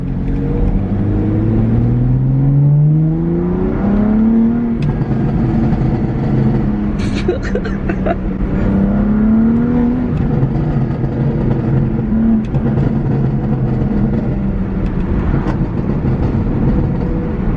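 A BMW F80 M3 with a Bootmod3 tune, driven in sport mode, holds a loud, close engine drone that rises and falls through revs, with a few sharp crackles from the exhaust burble.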